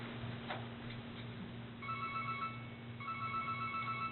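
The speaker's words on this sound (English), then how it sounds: "It's an old-fashioned phone." An old-fashioned telephone ring tone plays from a mobile phone, sounding as two bursts of rapid trilling ringing over a steady electronic hum.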